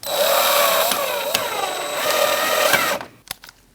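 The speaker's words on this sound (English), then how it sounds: "I'm also going to get my screw going up here." Driving screws into the plastic grille of a 2020 Toyota Corolla with a power driver, a loud whirring motor run that pauses briefly and stops near the end, followed by a few sharp clicks.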